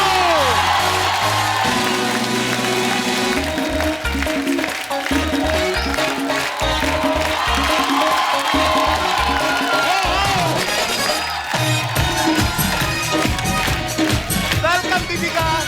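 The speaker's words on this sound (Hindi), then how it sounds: "आप सबकी जोरदार तालियों के बीच में इनवाइट करने जा रहा हूं" A studio audience claps and cheers loudly and continuously as Deepika Padukone is welcomed onto a comedy talk show stage, a sustained wash of applause and whoops under music.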